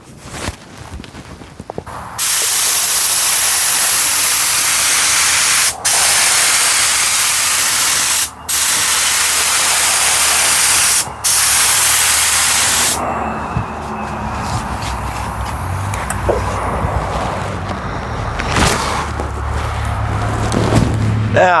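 Spray gun laying down a first coat of Ghost Red regular pearl paint, a loud steady broadband hiss in long bursts broken by brief pauses, then quieter workshop sounds afterward.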